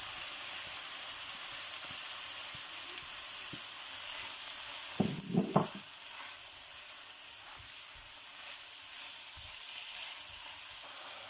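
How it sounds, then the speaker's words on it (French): Minced meat fries in a pan with a constant close sizzle, joined midway by a brief cluster of sharper scrapes and clatter as it is moved around, then settling back to even hissing. "Après, je mets la viande hachée."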